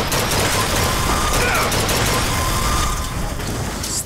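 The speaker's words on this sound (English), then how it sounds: "Stupid turrets." Rapid automated turret gunfire in the video game Bioshock Infinite, a dense continuous barrage of shots with booming impacts that stays loud from start to finish, easing only slightly near the end.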